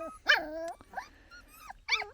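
Newborn farm puppies whimper and yip in short, high, wavering cries, three bursts close by with brief pauses between, no talk.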